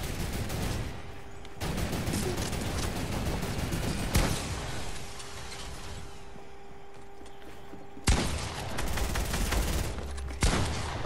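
A mounted turret in Fortnite fires in long, loud sustained bursts of rapid shots, broken by short pauses and sharp restarts, with no talk over it.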